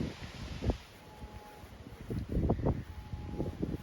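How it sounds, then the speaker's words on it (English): Strong wind buffets the microphone outdoors at a campsite, a steady rushing with louder gusts surging around the middle and later stretch, no voices. "it's still pretty windy here"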